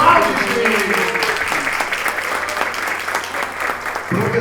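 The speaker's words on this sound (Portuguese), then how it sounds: "Recebamos com uma forte salva de palmas o meu, o seu, o nosso professor doutor Francisco José Alves de Aquino." A lecture audience at a summer school session welcomes a professor with strong, sustained applause, a thick, even roar of clapping lasting several seconds without a break.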